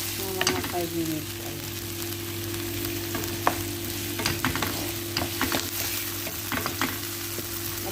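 Onion, green chili and tomato fry in a pan with a steady sizzle and a low hum, broken by occasional clicks and scrapes of a utensil, with no talk.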